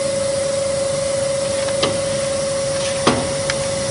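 A Griggio GB 5 edge banding machine runs with a steady, loud mechanical hum and a constant tone, broken by a few sharp knocks and clunks as an edge is pushed through the clamping unit.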